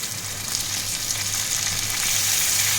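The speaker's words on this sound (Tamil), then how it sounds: "கருவேப்பிலை போட்டேன். கருவேப்பிலை வதங்கட்டும்." Curry leaves sauté in hot oil for a Tamil squid curry, giving a steady, close, even sizzle throughout with no talking.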